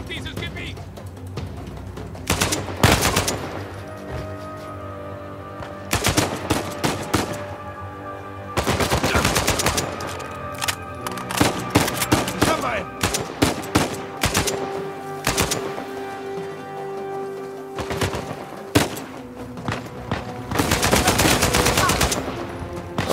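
Gunfire from a fight against enemies in a cemetery in Uncharted 4, with repeated loud automatic bursts separated by short pauses as someone talks throughout.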